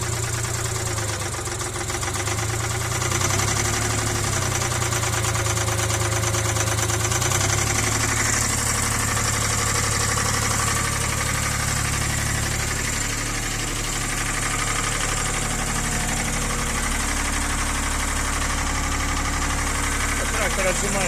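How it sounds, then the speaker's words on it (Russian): Small Shibaura SD2443 diesel mini tractor chugging steadily as it pushes itself up on its front loader bucket, a close, continuous mid-pitched engine rumble with a slight knock and shifting load throughout. "Трактор отжимается довольно легко."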